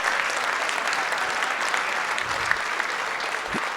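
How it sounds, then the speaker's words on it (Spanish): An audience at a weekly political assembly applauds steadily, a dense, even wash of clapping that sounds moderately close and continues through the whole stretch without pausing. "Un aplauso para todas y todos los que cooperaron."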